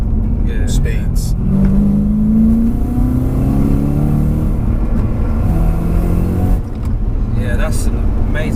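A supercharged BMW M3 tuned to 650 bhp accelerates hard, its engine droning loud and steady with rising pitch for several seconds under people talking inside the car.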